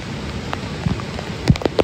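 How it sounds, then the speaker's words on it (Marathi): Torrential monsoon rain pours down near a waterfall in a steady, dense hiss, with a few louder drops splashing close by. "पाण्याचा आवाज ऐकून आपल्याला अंदाज येत असेल की किती तुफान पाऊस आहे"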